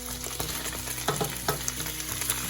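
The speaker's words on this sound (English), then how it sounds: "I'm gonna add my 2 whole tomatoes." Two whole tomatoes drop into a sizzling pot of hamburger soup, bringing a steady close frying hiss with a few soft plops and stirring clinks.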